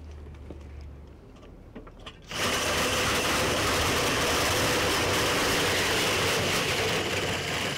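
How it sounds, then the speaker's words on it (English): After a quiet stretch, a cordless drill turning a grain auger suddenly starts and runs loud and steady with a grinding, rattling whir that continues to the end. "Now there's going to be a cordless drill to put on the top there."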